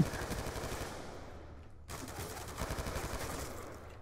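Rapid automatic gunfire in the video game Call of Duty: Black Ops 2, dense bursts of shots rattling steadily, a brief gap near the middle, then more sustained firing close and loud.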